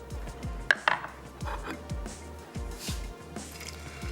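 Gola kebab mince is worked and shaped by hand, giving soft, wet squishing and patting sounds in irregular bursts, with a couple of sharper knocks against a dish.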